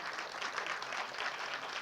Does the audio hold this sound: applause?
yes